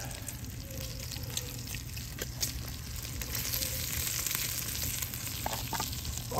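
Green peppers and onions fry in a cast-iron Dutch oven at a bushcraft campsite, giving a steady close sizzle with occasional light scrapes and clicks.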